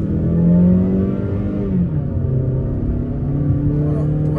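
Mazda 3 with a 2-litre naturally aspirated engine revving, a steady droning engine note that rises and dips slightly in pitch, heard from inside the car at moderate loudness with no voices.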